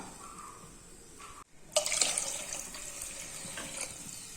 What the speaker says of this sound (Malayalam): ഒരു അരക്കപ്പ് വെള്ളം ഒഴിച്ചു കൊടുത്തിട്ടുണ്ട്